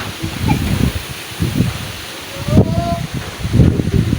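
Strong wind rushes through leaves in repeated gusts, each one bringing a surge of rustling.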